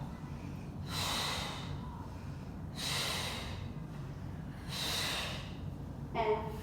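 Three long, forceful breaths out through the nose and mouth during a Pilates mat exercise, evenly spaced and close, each a broad airy rush of about a second, with a short clicking sound at the end.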